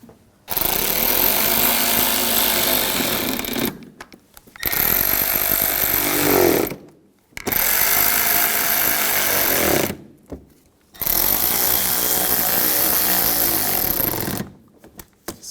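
A power tool drives screws while the front impact absorber is replaced on a 2011–2018 Volkswagen Jetta. Four loud, close bursts of about three seconds each are separated by brief silences, with no talking.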